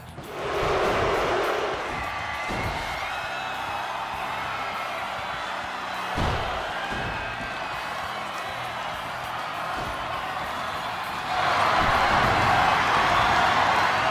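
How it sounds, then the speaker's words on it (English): A wrestling-arena crowd in the Rumble Roses video game roars and cheers continuously, a loud sustained wash of voices that swells toward the end. "Listen to this crowd tonight."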